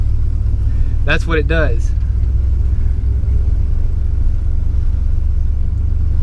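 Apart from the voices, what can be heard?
budget police car pulling away in drive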